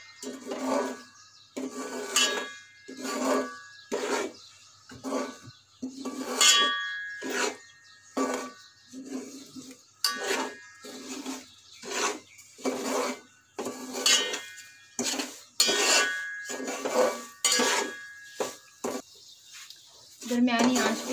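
A metal spoon scraping and clinking rhythmically against a pan as flour and oil are stirred and roasted for halwa, steady repeated strokes close up with a voice talking over them.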